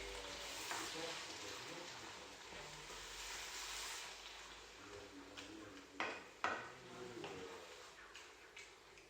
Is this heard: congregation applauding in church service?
no